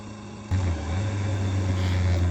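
A CFMOTO 675NK motorcycle engine drones steadily while riding along a road above water with cliffs alongside, a low continuous hum that swells in loudly after a brief quieter start and holds even throughout.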